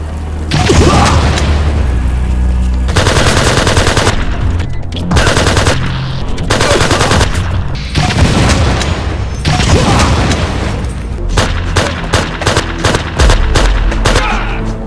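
Repeated loud gunfire from an XM177 rifle fitted with an underbarrel grenade launcher in the video game Project IGI: rapid automatic bursts with heavy booming reports, separated by short gaps, and a quick chattering volley near the end.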